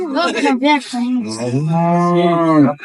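A cow moos close and loud at a cattle market, one long, drawn-out call after a few shorter grunting lows, with no talk over it.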